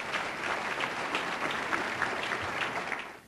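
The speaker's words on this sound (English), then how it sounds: "And I think that deserves a round of applause." Audience at a media awards ceremony applauds steadily, a dense wash of many hands clapping at moderate distance, sustained throughout with no talk.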